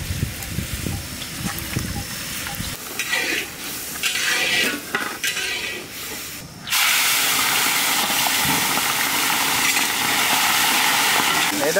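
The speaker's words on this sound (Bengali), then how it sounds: "এখন দিয়ে দেবো সর্ষের তেল মাছ ভাজার জন্য" Mustard oil heating in a wok for frying fish, with clinks of a utensil at first, then a loud, steady hiss and sizzle that fills the second half, close by.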